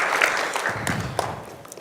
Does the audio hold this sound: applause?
yes